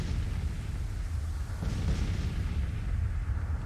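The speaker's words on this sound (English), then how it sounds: "We got one battery opening up." Civil War artillery battery of Napoleon 12-pounder guns opening fire in Grand Tactician, a distant, muffled cannon boom over steady low battlefield rumble, faint and far off.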